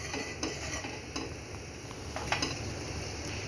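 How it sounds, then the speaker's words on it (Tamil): A ladle mashes cooked dal in a pot for tomato pappu, soft squelching strokes with a few light metallic clinks against the vessel, close and fairly quiet over a steady background hiss. "இதை நம்ம கரண்டியை வச்சு இப்படி லைட்டாக நல்லா மசிச்சு விட்டுக்கலாம்."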